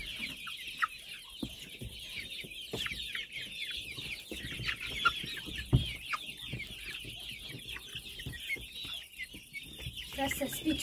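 Chicks cluck and chirp continuously at close range at night in a farmyard, a busy, steady chatter of many birds with occasional sharper calls.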